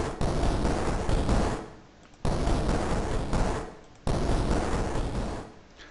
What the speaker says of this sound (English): I've taken one simple explosion element and I've turned it into a bigger explosion